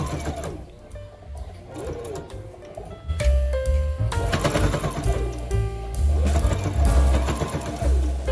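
Sewing machine stitching a fabric A4 organizer folder held with a small clip, starting quietly and then running steadily louder with a dense mechanical whir and tick from about three seconds onward.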